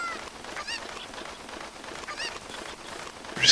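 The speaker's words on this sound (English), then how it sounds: "So now we have a chicken." Chickens in the video game Ocarina of Time cluck and squawk in repeated bursts over a steady game background, with a louder call right at the end.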